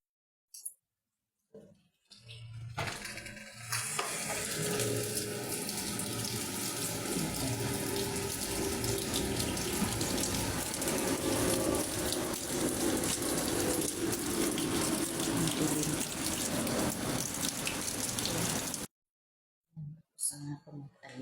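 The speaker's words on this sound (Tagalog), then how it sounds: "Malakas ang ulan dito mga palangga." Heavy rain pours in a dense, roaring hiss that runs steadily for many seconds, loud and close, with brief quieter gaps and a few short sounds at the start and end.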